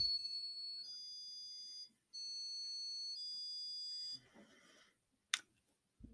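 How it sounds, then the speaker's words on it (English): Two sustained electronic beeps from a robot, high and tonal, separated by a brief gap, followed by a few faint clicks and a short sharp tap. "So what we should hear is two beeps"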